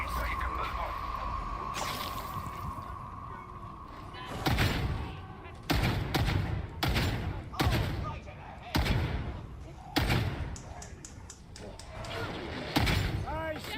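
Gunfire in the video game Warhammer 40,000: Darktide, with repeated heavy booming shots and thuds in irregular bursts, layered with game sounds while a voice talks over much of it.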